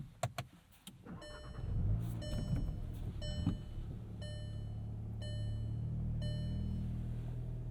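A 2025 Volkswagen Jetta GLI starts up from inside the cabin: a few clicks, the starter crank and the engine catching into a steady idle, with repeated electronic chimes sounding over the hum.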